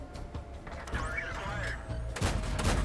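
Tank cannon shots sound in the World of Tanks video game on the Ghost Town map while a Covenanter tank scouts, a sharp blast near the end over steady engine rumble, with a swooping whistle earlier.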